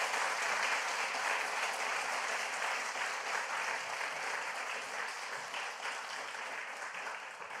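A crowd of listeners at a church gathering claps in sustained, dense applause that holds steady for several seconds and fades slightly toward the end, with no voices over it.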